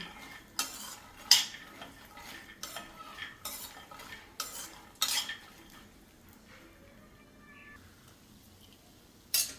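Chopped dry fruits sautéing in ghee in a pan for sugar-free ladoos, heard as intermittent scraping and clinking of a spoon stirring against the pan, with only a faint sizzle underneath.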